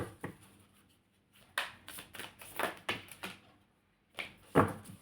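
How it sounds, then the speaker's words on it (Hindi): Tarot cards are being shuffled by hand up close, with quiet bursts of riffling and slapping card edges separated by short silences. "My last shuffle."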